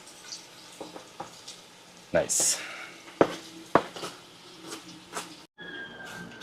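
Onions sizzle in a hot pan for chicken vindaloo while a utensil clinks and scrapes during stirring; someone says a brief word partway through.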